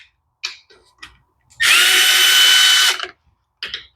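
A power drill or driver runs in one loud, steady burst of about a second and a half while the carburetor is unbolted from a Cub Cadet mower that sat unused for a year. A few short clicks and taps come before and after it.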